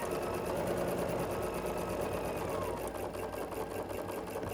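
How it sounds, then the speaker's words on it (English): Sewing machine stitching a scrappy sawtooth star quilt block, running steadily with a rapid, even mechanical whir throughout, close and moderately loud with no talking. "And then I just start sewing."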